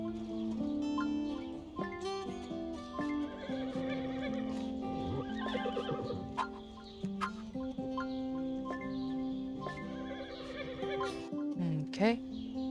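Horses whinny and neigh repeatedly in the horse-breeding game RSHR Desktop, over a busy soundscape with clucking fowl and hoofbeats, while a person talks throughout.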